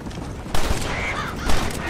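Gunfire in the Red Dead Redemption western game during a shooting competition: two loud, sharp reports about a second apart ring out over a noisy outdoor background.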